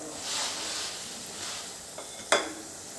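Chopped onion frying in a pan with a soft continuous sizzle as tomato puree goes in, a brief louder splash near the end, with no talking.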